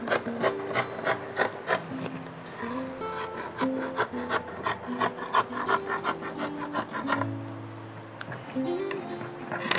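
Fabric for a bomber jacket sleeve is cut with shears in a rapid, steady series of crisp rasping snips, close and fairly loud over soft background music.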